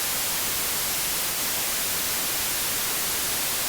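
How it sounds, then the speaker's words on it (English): A noise source in the Reaktor 6 software synthesizer runs through a resonant EQ, giving a steady, loud, broadband hiss that holds unchanged with no talking. "let's switch to the noise"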